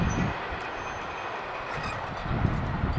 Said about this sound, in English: That's a pretty big train for the 28B.